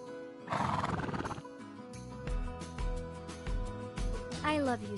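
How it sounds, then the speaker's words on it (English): Horse in the Spirit game on PS4, a long loud whinny early on, then rhythmic hoofbeats thudding, with a voice talking over the game sounds. "Giddy up, Spirit!"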